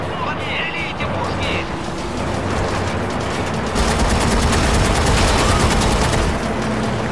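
Gunfire in the PlayStation 3 game Haze rattles in dense, rapid bursts that grow heavier midway, layered over a constant loud din of game noise.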